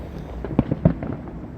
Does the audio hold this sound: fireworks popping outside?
yes